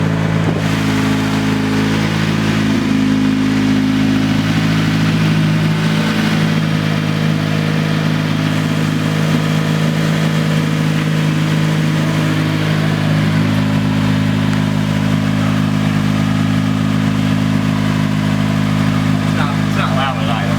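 A Honda CRX engine runs in a garage bay, holding a steady loud drone with a few rises in pitch as it revs, and voices speak over it throughout.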